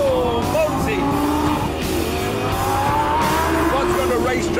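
Lamborghini Gallardo LP570-4 Performante accelerating hard on a racetrack, a loud continuous engine note rising through the revs with tire squeal, a voice talking over it.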